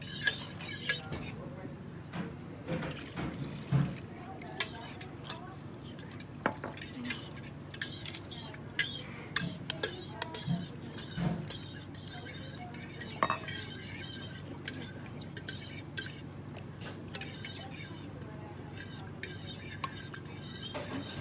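A spoon knocks and scrapes around a bowl as margarine, sugar, salt and vanilla are mixed into yeast for challah dough, soft irregular clinks and taps with faint background voices.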